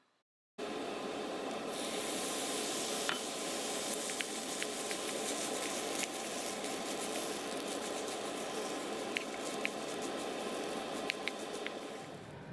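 Soy sauce hisses into a hot frying pan of ginger fried rice with the heat off: a steady, moderately quiet sizzle starts abruptly after a short silence, with a few faint ticks and pops, and no talking.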